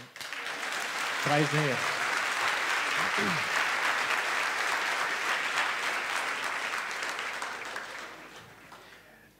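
Applause from a church congregation at a Dutch Reformed hymn-singing evening fills the space, a dense, steady clatter of many hands that fades toward the end, with a voice briefly speaking over it.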